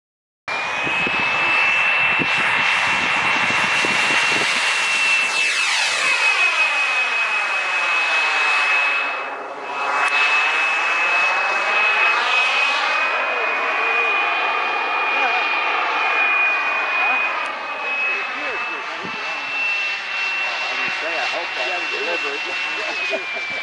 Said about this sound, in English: Let's take a look at that turbine here.